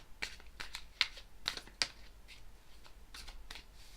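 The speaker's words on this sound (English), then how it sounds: "Just going to cut the deck." A deck of tarot cards is handled and cut, a quick series of soft papery snaps and riffles, close and quiet, with no talking.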